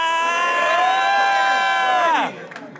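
Loud, sustained cheering and whooping from a live crowd at the Ruthless XIII top-four event, holding steady for about two seconds before dropping off into a few scattered voices.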